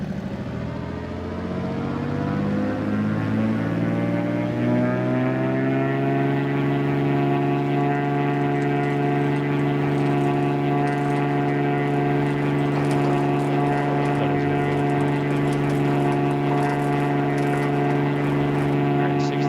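A Cessna 206 engine in a flight simulator game builds power with a rising drone over the first few seconds, then holds a loud, steady, harmonic roar for takeoff.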